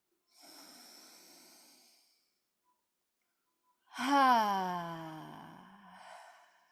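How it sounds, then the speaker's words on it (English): A deliberate audible exhale during a guided breathing session, a soft airy breath out followed after a pause by a louder, voiced sighing release that fades gradually. "Let's do that one more time with an audible exhale"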